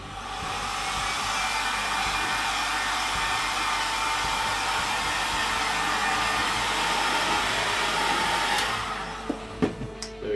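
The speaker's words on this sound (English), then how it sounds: "I'm going to go and heat gun this, just gently, because I don't want to ruin the paint" A heat gun gently drying fresh paint on the neck of a homemade BB-8 droid, a steady loud airy blowing hum running unbroken, cutting off near the end with a few small knocks.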